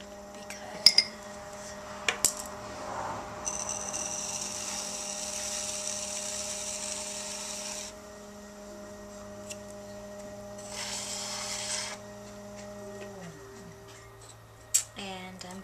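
Trimming a freshly thrown clay cup on a potter's wheel, with a steady hum from the spinning wheel and bursts of bright scraping as the trimming tool cuts the clay, plus a few sharp clicks.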